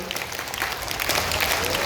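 Brief, loud burst of audience clapping at a school Labor Day celebration, a dense wash of applause with some crowd voices mixed in.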